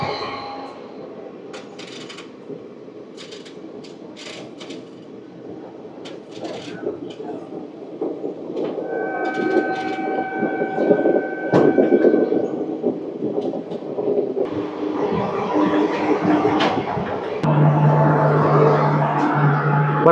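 Interior of the Pinakini Superfast Express on its Vijayawada to Chennai run, with continuous rolling rumble and wheel clatter that grows louder toward the end, joined by a steady tonal hum and brief squeals.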